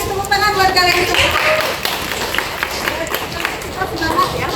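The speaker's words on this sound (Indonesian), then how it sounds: "tepuk tangan buat kalian semua." A classroom of children applauds, a busy patter of many hands mixed with excited voices and chatter, fairly loud and close.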